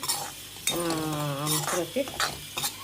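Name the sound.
stirring semolina roasting in ghee in a pan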